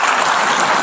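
Applause filling the UN General Assembly hall after a presidential address, a loud, continuous wash of many clapping hands heard from within the crowd.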